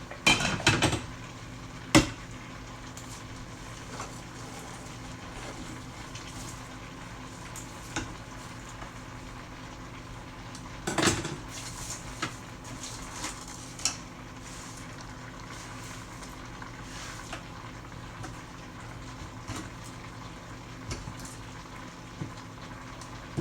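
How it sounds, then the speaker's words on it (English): Cabbage drops into a pot with a few clattering knocks at the start, then a quiet steady simmer bubbles on a stovetop, with occasional faint kitchen clinks and no talk. "I'll throw the rest of this cabbage in"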